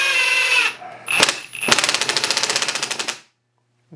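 A Ryobi P238 three-speed impact driver running on its middle speed, sounding close and loud: a brief whir and two short bursts, then a sustained rapid rattling hammer that stops abruptly into silence.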